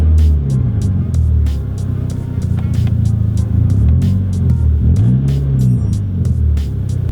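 Loud Audi A3 engine with the window down, revved in bursts: a deep throbbing rumble that rises and falls in pitch through repeated throttle blips, close and heavy, with no talk over it.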